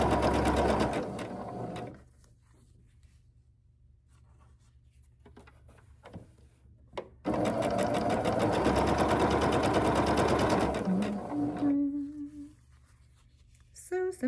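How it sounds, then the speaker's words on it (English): A sewing machine stitches quilt block pieces together in two bursts of rapid, even mechanical whirring, close and clear, separated by a quiet pause with small handling sounds. "I am literally just going to sew these 4 together"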